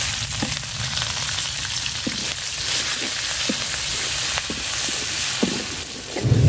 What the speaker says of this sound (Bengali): মাছ ভাজার তেলে পেঁয়াজ আর মরিচ দিয়ে দিলাম।